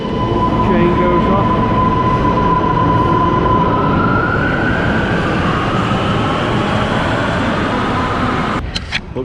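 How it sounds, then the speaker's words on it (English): A train pulling away, a loud, close, continuous rumble of wheels on rail with a rising whine and grinding, holding strong throughout before easing slightly at the end. "And now train goes"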